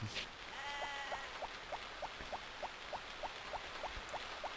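Sheep bleating in the farming video game Harvest Moon: More Friends of Mineral Town, a rapid, evenly spaced series of short bleats repeating about every third of a second, clear over a soft steady background.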